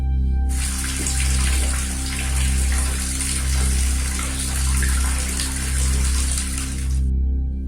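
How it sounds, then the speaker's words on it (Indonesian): A kitchen faucet left running, water streaming steadily and fairly loud for about six and a half seconds, then cut off abruptly, with a low hum underneath. "Ropik pun mendengar suara air keran berbunyi"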